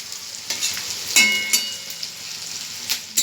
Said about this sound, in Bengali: আমার পেঁয়াজটা লাল লাল করে ভাজা হয়ে গেছে